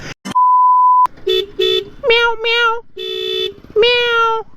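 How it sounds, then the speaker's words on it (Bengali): A motorcycle horn blares in several short, loud, tonal honks with a whiny, meow-like cat quality, preceded by a steady electronic beep, all close and with no talking. "হর্নটা শুনছেন একদম মানে মুরগি মার্কা হর্ন"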